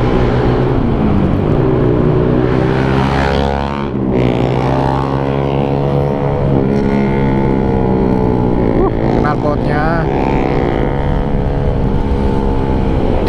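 A loud, continuous Honda PCX 160 scooter engine and exhaust rumble while riding, rising and falling in pitch with throttle changes, with wind noise throughout.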